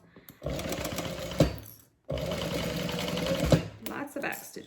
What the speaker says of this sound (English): Lots of back stitching here.